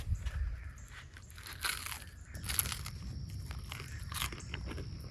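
Someone bites into and chews fried buffalo fish ribs cooked outdoors on a river bank, giving soft, close crunches and wet chewing in a quiet, irregular rhythm with no talking.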